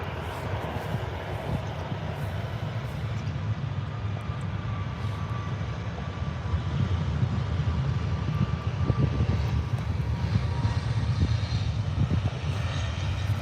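A Neos Boeing 737 rolls for takeoff at Birmingham Airport: a continuous deep jet roar that builds gradually in loudness, heard from a distance with no talking.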